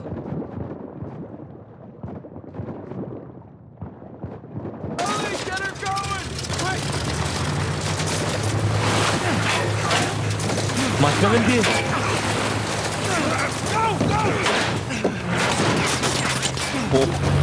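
Gunfire in the video game Uncharted 4, during a fight near a plane, breaks out after a quieter opening and becomes a dense, loud, sustained barrage with rumbling engine-like noise beneath.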